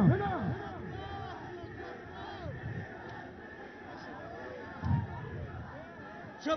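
Crowd at a PTI political rally in Quetta chanting slogans, a dense babble of many voices with louder surges near the start and around five seconds, filling the whole stretch.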